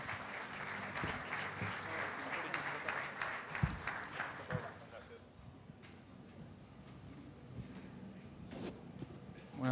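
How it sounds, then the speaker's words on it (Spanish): An indoor audience at a DeFi and fintech conference panel applauds to welcome the speakers, with dense clapping for about five seconds that thins to scattered claps and room murmur. "Los recibimos con un aplauso y los escuchamos."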